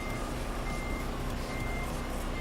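Reversing beeps sound from an International LT truck backing up in American Truck Simulator, a steady repeating alarm tone kept at a low level over a constant engine hum, with no one talking.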